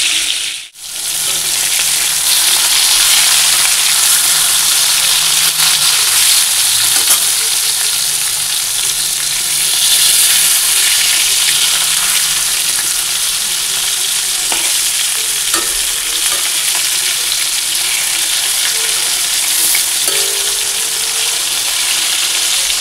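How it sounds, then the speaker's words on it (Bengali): Fish pieces fry in hot oil with a loud, steady sizzle that crackles continuously for the whole stretch, close up and with no voices. "মাছটা ভেজে নিই।"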